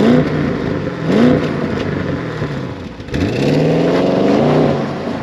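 An Audi RS6 Performance with the RS sport exhaust revs in a loud, close burst, rising and falling twice in throaty engine sweeps with no talking.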